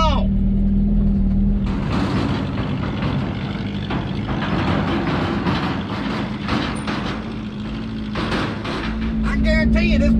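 A 1980 Datsun 720 pickup engine labours uphill, a low steady drone under rattling cab noise and bumps, with a brief tonal whine at the start and end; no talk is heard.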